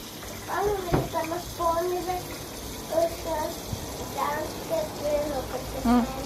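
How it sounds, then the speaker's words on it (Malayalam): A pot is scrubbed with a sponge under a running kitchen tap, a steady gushing water sound with occasional scraping, while voices talk over it throughout. "സ്പോഞ്ചിട്ട് പാത്രത്തെ ഉരച്ച് കഴുകുക."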